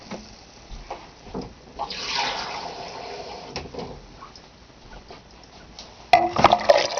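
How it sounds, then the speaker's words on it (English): Water is poured from a tap onto soybeans for homemade soymilk, a faint intermittent splash and trickle that swells briefly, then ends with a few louder knocks and splashes. "And then I'm going to add 2 parts water."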